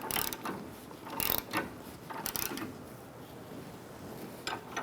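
A ratchet wrench tightening the sway bar link nut on a 2013-2018 Toyota RAV4, giving several short bursts of rapid clicking with brief pauses between them, close up.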